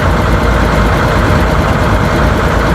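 New Holland 8770 tractor from the Genesis series, its engine running loud and steady with a dense, continuous low rumble and no voices.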